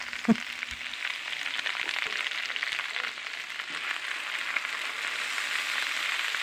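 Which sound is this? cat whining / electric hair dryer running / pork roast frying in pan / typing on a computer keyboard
pork roast frying in pan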